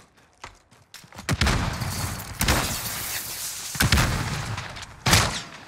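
Heavy gunshots ring out in a Call of Duty style video game, a few loud close blasts spaced a second or more apart with rumbling decay between them and no talk.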